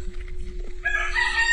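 A rooster crows loudly and close by, one drawn-out call rising over a steady low background hum, with no talking.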